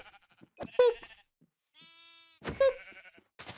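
Two bleats from sheep in modded Minecraft, each a short wavering cry, spaced about two seconds apart with quiet game ambience and a faint synthetic tone between them.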